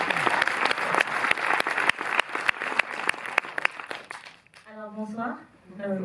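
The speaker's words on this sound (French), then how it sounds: "Oui, vous pouvez l'applaudir." An audience in a Montreuil cinema applauds after a screening. Sharp, distinct claps fill the room for about four seconds, then fade as a voice begins speaking.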